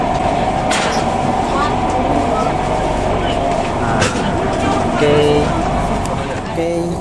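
Inside a Tegal Bahari executive-class passenger train, a dense, continuous rumble of rail travel fills the space, with brief tonal beeps and murmured voices on top.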